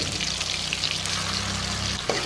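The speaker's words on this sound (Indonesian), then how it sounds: "Tumis aja sampai semua bumbunya matang." A coarsely crushed spice paste sautés in hot oil, giving a steady close crackling sizzle with a low hum beneath and a small knock near the end.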